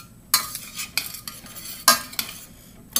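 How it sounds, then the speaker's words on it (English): Food is stirred in a sizzling pan with melted butter, a series of sharp utensil scrapes and clacks against the metal in an uneven rhythm over a low frying hiss, close up and with no talk. "Stir that up."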